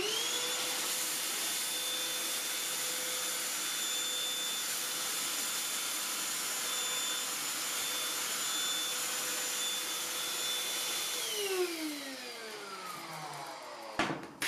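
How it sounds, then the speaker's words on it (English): A Black+Decker BDH2000PL Pivot cordless lithium vacuum runs close and steady with a constant high whine while sucking up dry white rice, then its pitch falls away as it powers down near the end, followed by a brief clunk. "Let's see how this vacuum does on rice."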